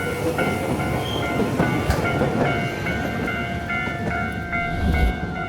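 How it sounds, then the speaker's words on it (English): A slow city tram rolls along its rails in Hiroshima, Japan, with a steady rumbling clatter, faint periodic clicks and a thin electric whine, heard from on board at close range without talk. "Trams are very slow."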